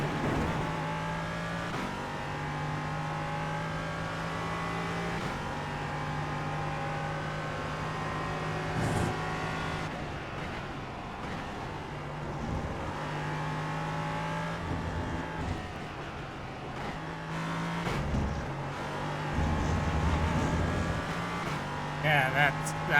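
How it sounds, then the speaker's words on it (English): LMP3 race cars at Sebring in an IMSA eSports racing game drone steadily, their engines revving and shifting through the lap while another car passes, with a driver talking over the sound. "I heard a loud car in the background."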